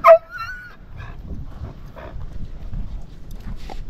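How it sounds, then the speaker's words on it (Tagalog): A dog on a seaside outing gives a short yelp and a few soft whimpers close by, followed by faint shuffling and low outdoor background noise. "Dito naman yung tour guide na aso."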